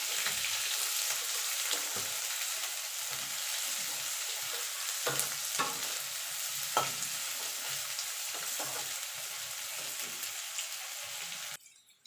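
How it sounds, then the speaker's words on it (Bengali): Chopped onion and garlic fry in a pan for cauliflower bharta, giving a steady, even sizzle with occasional stirring scrapes before the sound cuts off near the end. "পেঁয়াজটাও গোল্ডেন কালার করে ভেজে নেব।"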